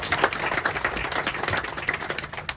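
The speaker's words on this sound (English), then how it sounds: "You can wave, it's fine, and you can clap for him." Audience clapping at a museum ribbon-cutting ceremony, a steady spread of hand claps at moderate volume filling the room, with no clear talk over it.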